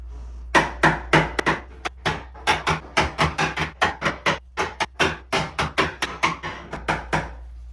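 A bathroom vanity mirror glued to the wall with adhesive dollops is pried loose with shims, giving a run of sharp, close cracking and snapping pops in an irregular rhythm over a low steady hum.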